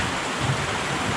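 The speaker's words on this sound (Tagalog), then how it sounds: "Sana naman huminto na ang ulan." Steady broadband hiss of rain falling during a typhoon in Occidental Mindoro, constant and fairly loud throughout with no pauses.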